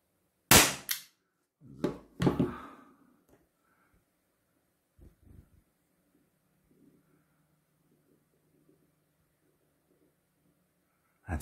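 A few sharp, snappy pops from a Walther PDP Compact CO2 air pistol, two close together, then near silence with faint rustling and one more soft click at the end.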